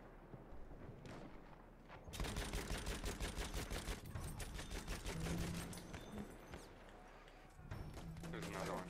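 Rapid, sustained bursts of Chauchat machine gun fire in Battlefield 1, loud and dense for several seconds, set among wider battle noise with a brief pause before firing resumes.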